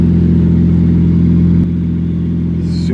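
A big-turbo N54 BMW 335i pulls hard with a loud, steady low engine drone, heard from inside the car, that shifts in tone partway through, then a faint brief chirp rises near the end.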